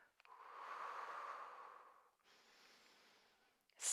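Breathing during a magic circle arm workout, one long audible breath in followed by a softer breath, close and quiet, ending with a brief louder hiss, no speech.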